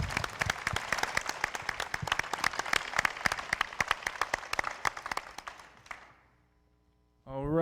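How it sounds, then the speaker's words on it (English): Audience applause for a finalist at a local business pitch competition, a dense crowd clapping steadily for about six seconds before fading to near silence, then a brief new sound at the very end. "Let's give you a round of applause."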